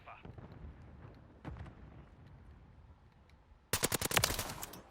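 Call of Duty MW3 multiplayer gunfire: a few scattered shots early on, then a loud rapid burst of automatic fire near the end, over a low game-noise bed.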